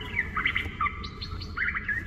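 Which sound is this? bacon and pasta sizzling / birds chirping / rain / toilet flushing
birds chirping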